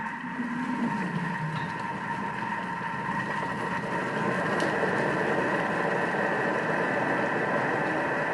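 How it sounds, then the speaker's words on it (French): A Thermomix blends cooked apples into compote at medium speed, giving a steady, loud motor whir with a slight churning texture that holds constant for the whole stretch. "je vais déjà mixer un petit peu vitesse 3-4"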